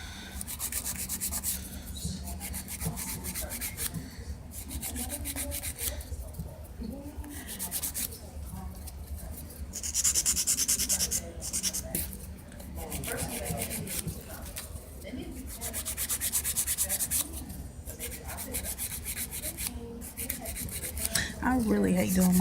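A 100 grit nail file worked back and forth across fingernails, a close rasping scrape in repeated strokes with short pauses between passes.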